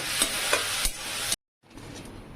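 Chopped pieces fry in oil until crispy, a loud close sizzle with spatula scrapes and stirring, then a brief break of silence before a fainter sizzle resumes.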